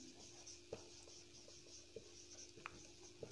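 Writing on a board during a class 12 maths lesson on relations and functions gives faint, scattered scratches and soft taps over a steady low room hum.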